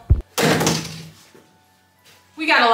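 A house door is shut with a single short, heavy thunk right at the start, followed by a burst of loud, noisy sound and then a raised voice.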